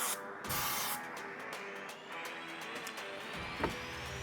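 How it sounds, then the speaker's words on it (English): Aerosol glue activator sprayed onto adhesive for a bonding test with dollar store and Lowe's Instabond products, a short hissing burst near the start followed by faint steady hiss and small clicks, close and quiet. "I'm gonna hit both of them with some activator."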